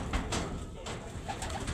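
Pigeons coo softly in a few brief, rounded calls against a steady noisy background at a bird seller's, fairly faint and with no clear talking.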